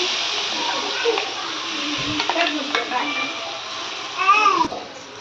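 Ground onion-greens paste stirred into a hot pan, with a steady frying sizzle and scraping spoon strokes; a louder clatter of the spoon against the pan near the end, and a voice talks over it.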